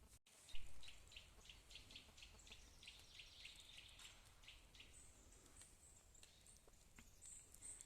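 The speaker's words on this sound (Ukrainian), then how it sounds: "Привіт-привіт, пташечки." Small birds chirp and sing in a forest during mushroom hunting outdoors, quick repeated high calls that come in bursts, fairly faint over soft rustling and low background noise.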